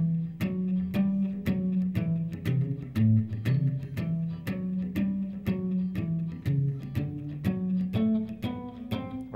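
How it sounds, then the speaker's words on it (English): A walking blues bass line is played on a guitar, alone: steady plucked low notes, about two per second, moving up and down in an even, moderately loud rhythm. "typical bass part sounds like this"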